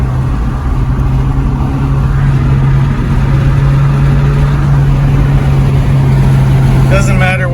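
A Honda Acura cruises at speed while shaking, with a loud, steady engine and road drone and a constant low hum running throughout. A person talks over the noise inside the cabin.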